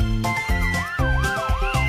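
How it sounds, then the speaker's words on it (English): A toy or animated police car siren wails in rising and falling sweeps, loud and close, over a low rumbling engine-like background. "Police car!"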